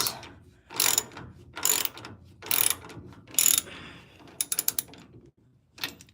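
A ratchet clicks in several loud, close bursts while tightening down a brake part, each burst a quick run of sharp clicks separated by short pauses, with no talking.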